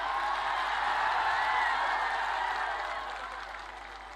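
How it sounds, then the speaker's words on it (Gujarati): Sustained applause from a large crowd welcoming guests at a Kshatriya community rally in Rajkot. The dense clapping is steady and loud, then fades slightly toward the end. "મહિપાલસિંહ ભાઈને, વીરભદ્રસિંહ ભાઈને આપણે આવકારીએ છીએ તાળીઓના ગડગડાટની સાથે"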